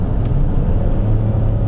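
Opel 2.8 Turbo engine pulling hard at full throttle from about 100 km/h, a steady loud low drone heard from inside the car, with no talk over it.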